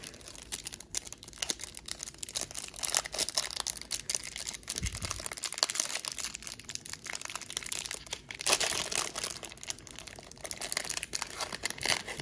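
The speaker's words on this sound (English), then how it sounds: "here's the plastic wrap" Plastic wrap from a 2020 Topps Update baseball card hanger box crinkles and crackles faintly and continuously, with a few sharper crunches along the way.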